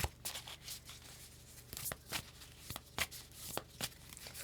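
A deck of tarot cards being shuffled close up, soft papery riffles and sharp snapping slaps repeating in an irregular rhythm, quiet and alone with no talking.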